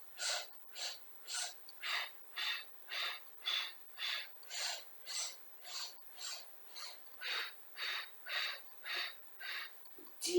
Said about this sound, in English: Let's do our 5 breaths for 2 sets.